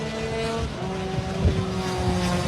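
Racing scooters in a Super Scooters race at Pembrey circuit drone through the hairpin, a steady pack of engine whine with overlapping buzzing tones, fairly close and continuous, with no voices.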